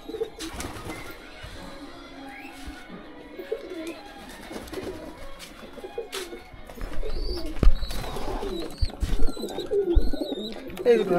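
Pigeons coo on and off after being released from a house, soft and fairly distant at first, then louder with scattered clatter and bursts of nearby handling noise toward the end.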